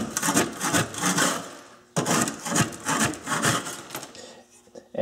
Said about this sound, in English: take a scraper and just scrape this off as best I can